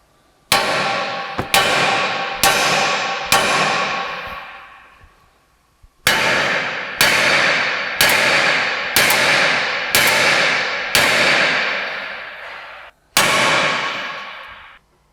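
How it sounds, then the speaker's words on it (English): About a dozen sharp metallic clangs ring out as a hammer strikes the side of a 2005-2009 Mustang S197 front suspension knuckle. The blows come at a steady one-per-second pace in two bursts separated by a short pause, followed by a final hit, each loud, close and ringing briefly. "So you don't drive it out, you're gonna hit it on the side of the knuckle."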